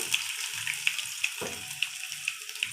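Finely chopped ginger hits hot tempering oil and sizzles with a soft, continuous hiss broken by scattered sharp crackles and pops, close and fairly quiet.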